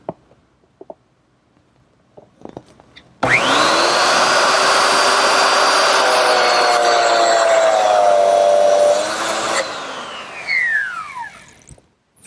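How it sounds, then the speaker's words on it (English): A biscuit joiner cuts slots into a wooden lid in a workshop. After a few faint knocks, the motor whines up sharply to a loud steady scream for about six seconds, then spins down with a falling pitch. "Now I'm going to make the slots that go in the lid itself."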